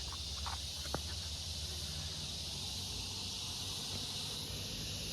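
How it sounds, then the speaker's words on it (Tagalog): Crickets chirp in a forest along a hillside trail, a dense, steady high-pitched insect drone filling the background, faint and continuous with a few small rustles, no voices. "Wala ka maririnig dito, puro kuliglig lang eh."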